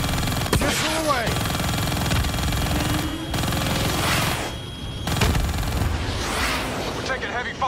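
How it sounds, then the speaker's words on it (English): Heavy gunfire and explosive booms in Call of Duty Black Ops 3 on the Sand Castle mission, loud and dense throughout, mixed with mechanical whines and radio-style voices talking over the fighting. "We're taking heavy fire over here."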